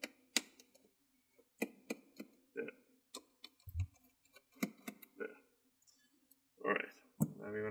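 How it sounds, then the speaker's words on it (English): Small sharp clicks and ticks come from loosening the bottom-cover screws of a Dell G3 15 laptop, scattered unevenly and close, with quiet talk between them. "You're gonna hear a click sound at the end."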